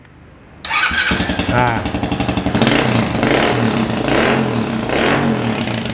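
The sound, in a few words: mini trail motorcycle engine starting and revving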